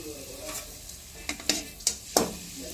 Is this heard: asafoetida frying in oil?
yes